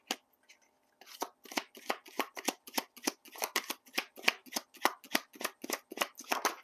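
Tarot cards being shuffled, a close rapid train of crisp papery riffles in a steady rhythm after a brief quiet start, with no talking.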